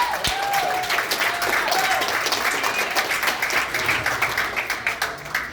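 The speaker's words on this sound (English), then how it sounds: "let's give them a round of applause" Steady applause from a crowd, many hands clapping continuously for several seconds.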